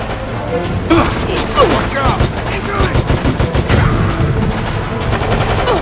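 Rapid bursts of gunfire in Resident Evil: Operation Raccoon City crackle continuously with dense, loud shots and explosions, with excited shouting mixed in.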